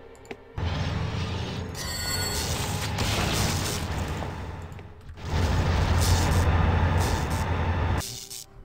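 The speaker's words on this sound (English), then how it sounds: "The giant bomb dude just blew himself up completely" A giant bomb enemy blowing itself up in Dungeon Siege, a burst of booming, crackling blasts that swells, briefly eases, then returns louder before cutting off, with no talking.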